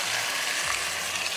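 Chicken curry in a pressure cooker hisses and sizzles steadily as a cup of water is poured in, a loud, close, continuous frying crackle with no voices.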